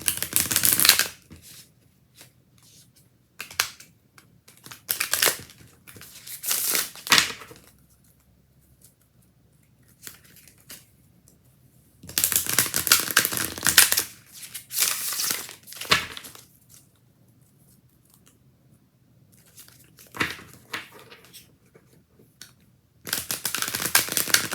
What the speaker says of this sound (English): So I'll shuffle these and I'll grab one of these